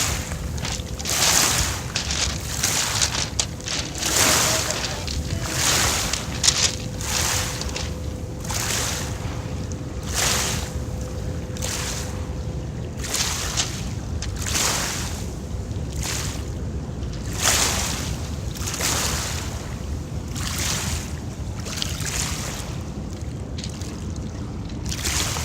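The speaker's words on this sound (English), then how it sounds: "Oh, now there's big waves." Big ocean waves break and wash along a beach, a steady roar of surf with repeated surges at irregular intervals, accompanied by constant wind rumble against the microphone.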